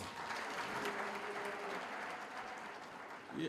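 A round of applause at an education summit in Omaheke, a steady, moderately faint wash of clapping from an audience that holds for several seconds, with a brief voice or cheer near the end.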